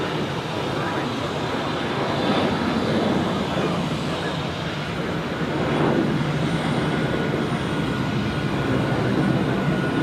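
A Swiss Boeing 777 airliner at Zurich airport produces a steady, broad jet rumble from a distance, with a slight swell midway, as heard from the observation deck.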